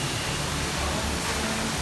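Steady broadband rush of an artificial waterfall at an open-air restaurant with seating over the water, a constant close wash of falling water filling the whole stretch.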